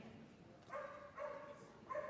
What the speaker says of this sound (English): Dog taught to bark, retains its position